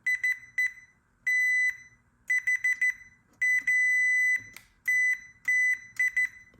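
A multimeter in continuity mode beeps across soldered fuse leads in a rice cooker repair: a close, shrill, steady tone cut into uneven bursts of varying length, with short silences between, and no talk.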